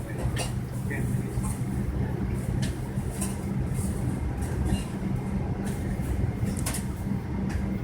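Cabin of a United Airlines Boeing 777-200ER during a long pushback at Newark, a steady low rumble and hum throughout with faint intermittent clicks and knocks, no clear talking.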